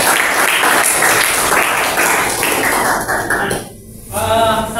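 A classroom applauds a student named Evan, loud brisk clapping from many hands that thins out briefly near the end before a final burst of clapping with a voice.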